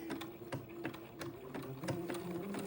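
A domestic sewing machine zigzag stitching Swiss insertion lace to French insertion lace for a French Acadian sundress, running steadily with a regular rapid needle rhythm, close and moderately quiet, with no talking.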